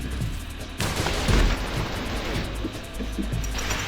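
Gunfire in the first-person action game Severed Steel: a loud burst of booming shots, followed by a lingering noisy rumble of further shots and action, with no voices.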